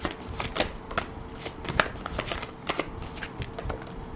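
Tarot cards, angel blessing cards among them, are shuffled close by in quick irregular bursts of crisp riffling and flicking, with sharp slaps as cards are drawn, and no voice over them.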